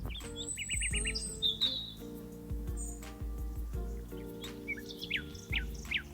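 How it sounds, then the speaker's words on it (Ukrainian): Several birds chirp and trill in quick, high bursts over a low, steady background hum. "це спів пташок."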